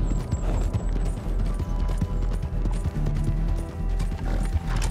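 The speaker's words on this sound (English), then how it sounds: "Your horse is right there, I see him coming. I'm on the horse." Horse hooves clip-clopping in the Red Dead Online video game, a steady rapid rhythm of close, loud hoofbeats at a brisk pace under a low rumbling ambience.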